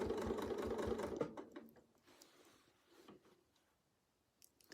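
A sewing machine stitches a quilt with a Westalee circles ruler in a fast, steady whir of needle strokes for about a second, then stops, leaving faint clicks and handling noises.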